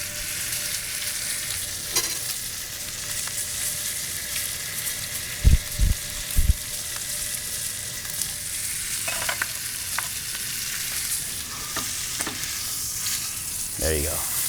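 A steak's fat side sears against the edge of a hot pan, giving a loud, continuous sizzle and frying hiss, with a few brief clunks and knocks partway through.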